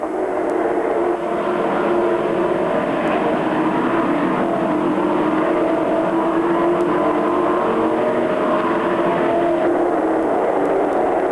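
Race cars lapping a short oval speedway at a Labor Day stock car classic, the leaders coming into lapped traffic, making a loud continuous roar of several engines with shifting pitch and no break.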